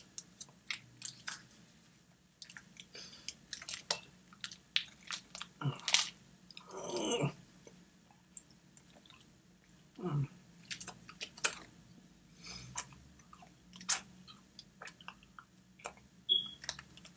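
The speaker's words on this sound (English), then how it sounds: "This is called a Tootsie Roll, and it's supposed to be chewy candy." A Tootsie Roll chewy candy being chewed close to the mic, with soft sticky squishing and mouth sounds in irregular bursts and a few crinkles of the wrapper, with no talking.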